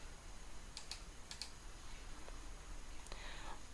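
Username and password typed on a computer keyboard, a few faint scattered key clicks in small clusters over a quiet background hum, no talk.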